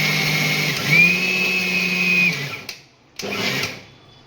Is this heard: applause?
no